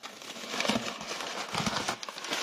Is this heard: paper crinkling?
yes